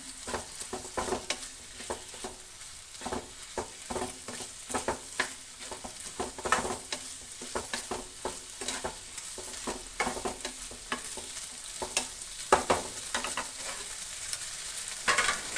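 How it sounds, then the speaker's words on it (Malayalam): Vegetables with green chilli and coriander being stirred and mixed in a pan for a butter vegetable dish, with repeated spatula scrapes and taps over a soft sizzle, close and fairly quiet. "എന്നിട്ട് നമ്മൾ ഇത് നല്ലതുപോലെ ഒന്ന് ഇളക്കി യോജിപ്പിക്കണം"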